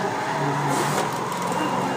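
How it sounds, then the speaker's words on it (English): A Nissan 180SX engine in Assetto Corsa drones at a steady high pitch at full throttle in third gear on Happogahara touge, with a voice talking over it. "This is full throttle in third."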